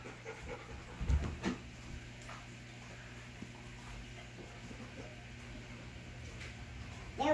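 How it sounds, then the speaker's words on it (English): A dog panting indoors, a soft rapid breathy rhythm that stays faint against a quiet room, with a brief louder rustle near the start and again at the end. "Oh, the dog's in the house."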